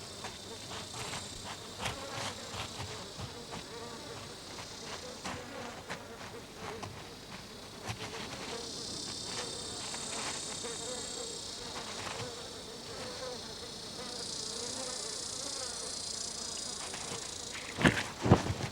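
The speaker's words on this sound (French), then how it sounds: "lorsque résonne le chant des cigales" Cicadas singing on an afternoon, a dense, continuous high buzzing chorus that swells and fades slightly, with a few faint clicks and rustles underneath and a sharper knock near the end.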